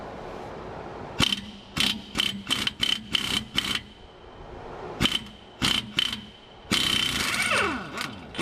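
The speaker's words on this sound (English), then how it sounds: "I got my 1 1/4 inch socket impact. We're gonna try to pop this off" An impact wrench with a 1 1/4 inch socket rattles in short repeated bursts, then longer hammering runs, while removing a drive shaft part from a 2002 Chevy S-10; close and loud against a quiet background.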